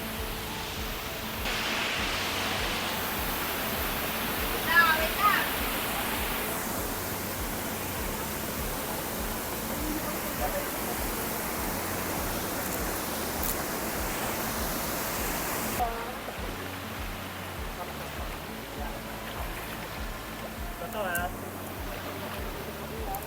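Loud, constant rush of river water during a crossing on a mountain hike, broadband and steady throughout with little variation, a brief thump partway through and a slight drop in intensity later on.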